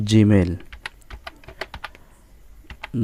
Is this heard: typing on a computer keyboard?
yes